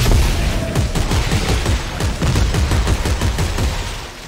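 Rapid, loud volleys of shotgun and weapon fire from Dead Space 3 co-op play, dense overlapping blasts rattling continuously close up with no pauses or talk.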